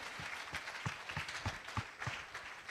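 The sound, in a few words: congregation applauding in church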